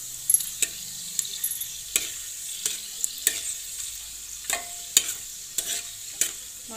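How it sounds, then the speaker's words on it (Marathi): Whole spices, bay leaf, cardamom and cumin, frying in a pressure cooker for chole masala, a steady bright sizzle broken by regular sharp taps and scrapes of a spoon against the pot. "मसाले व्यवस्थितपणे फ्राय होऊ द्यायचे."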